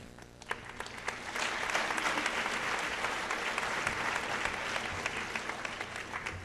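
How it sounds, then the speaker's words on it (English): Sustained audience applause fills a high school graduation hall, a dense steady wash of many hands clapping that holds at full strength for several seconds without pause. "I noticed that was the least amount of applause"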